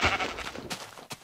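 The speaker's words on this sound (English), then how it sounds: "There's a sheep over there." A sheep in the Minecraft video game gives a short bleat up close, one wavering call followed by a few faint clicks.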